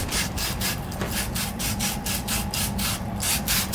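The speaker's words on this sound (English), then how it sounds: "Got to clean the fitting and the pipe." A copper pipe and fitting are scrubbed with a wire pipe-cleaning brush before soldering during a water heater installation, heard as rapid, rhythmic back-and-forth rasping strokes, close and continuous with no talking.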